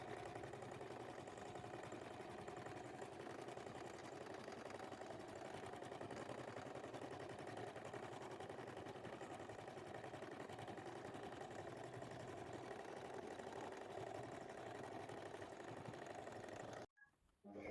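A sewing machine running straight stitches back and forth over thick layered fabric for a heavier seam, a faint, steady, even mechanical whir that carries on without a break, then stops abruptly near the end, with no talk.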